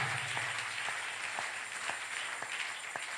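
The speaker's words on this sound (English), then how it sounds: "Am I hearing some clap offerings unto God?" A church congregation claps as an offering to God during a sermon, producing steady, dense clapping that runs without a break for the whole stretch, with no voices over it.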